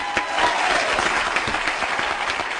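Studio audience applause on the Tony Danza Show, a steady dense patter of many hands clapping at moderate volume for the whole stretch, slightly distant, with no voices over it.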